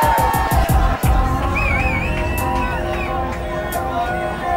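Crowd noise at a London drum and bass DJ set for an album launch, a dense roar of voices and cheering with a few sharp hits at the start, staying loud and steady throughout.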